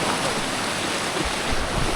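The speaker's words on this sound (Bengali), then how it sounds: "ঝর্ণা" A waterfall in Chattogram, Bangladesh, roars as a steady broadband rush of falling water, continuous and fairly loud throughout with no voices over it.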